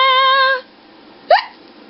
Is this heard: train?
no